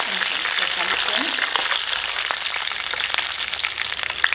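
Chana dal fries in hot oil in a pan for a potato curry, producing a continuous dense crackling sizzle, close and loud, with faint stirring taps.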